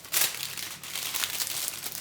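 Baking paper brought from Poland crinkles close by in quick, continuous rustling bursts for about two seconds, with no talk.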